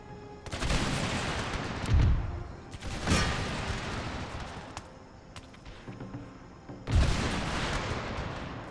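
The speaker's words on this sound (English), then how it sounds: "I think the cannons are now firing into this." Cannon fire in a battle in the game Empire Total War: several heavy booming shots and a rumbling fusillade roll out over continuous battle noise, loud and reverberant, with no voices.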